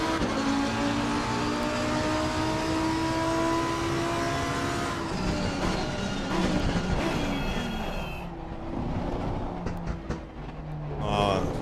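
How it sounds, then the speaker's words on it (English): Race car engine in Assetto Corsa Competizione, played on PS5 with a Fanatec DD Pro wheel, roars steadily with rising and falling pitch through gear changes, loud and continuous, then eases off before building again. "The engine noise is pretty dope."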